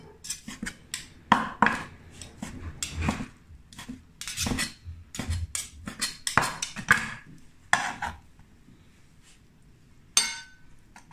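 Knife clinks and chops against a board and pan while chicken breast, mushrooms and basil are prepared for an Italian-style pasta in white sauce, a run of sharp, irregular close taps and clatters with short pauses, no talking.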